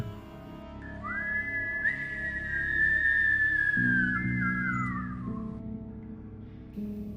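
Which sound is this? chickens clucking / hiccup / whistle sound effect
whistle sound effect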